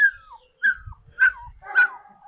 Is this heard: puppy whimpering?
yes